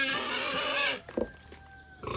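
Loud, drawn-out pig squeals and grunts up close on a small farm, followed by shorter snorting grunts, with no talking.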